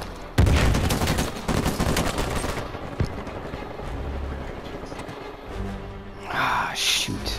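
Rapid gunfire bursts from an Uncharted 4 multiplayer team deathmatch on rooftops crackle loudly at first, then thin into scattered shots and impacts, with a voice exclaiming over the action near the end.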